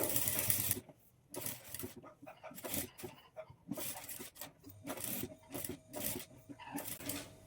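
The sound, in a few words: sewing machine stitching boat neck blouse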